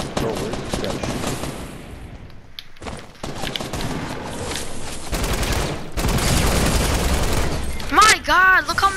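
Rapid bursts of gunfire crackle through a Fortnite match, with several loud volleys and sharp shots that break off and start again, while players talk over the action.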